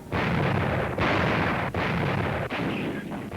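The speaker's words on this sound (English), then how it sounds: "Right on time, the big guns fire." Massed artillery guns open fire along the North Africa front, a loud, close, continuous roar of blasts broken into about four heavy surges with brief dips between them. No voices.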